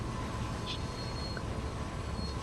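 A freight train braking in the video game Train Sim World, a steady broadband rail rumble with faint high brake squeal tones drifting in and out, fairly quiet and continuous without talk.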